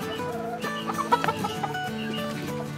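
Brakel chickens clucking and murmuring close by, with a rooster among them; soft, irregular calls overlap against a low farmyard background, with no talk.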